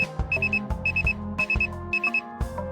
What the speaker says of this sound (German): Das klingt wie so ein Wecker. Das ist voll der nervige Ton.